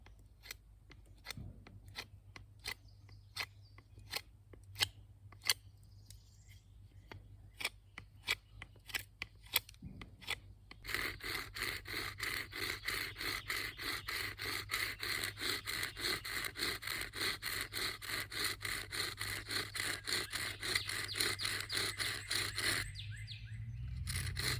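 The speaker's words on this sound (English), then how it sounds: "I'm also going to get my knife out and make this hearth board thinner than what it is because it's quite thick" A knife shaves down a wooden bow drill hearth board. A few sparse, sharp clicks give way to steady, rapid scraping strokes close by, with faint bird chirps in the background.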